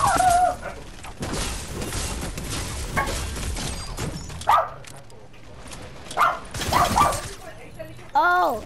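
A pet dog barks, yips and whimpers at home in short separate bursts, with a louder rise late in the clip. A person talks throughout, partly over the barking.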